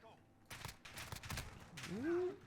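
FAMAS rifle fire in a shooter video game, several quick bursts of shots at moderate level, with a brief voice and a whistling tone near the end.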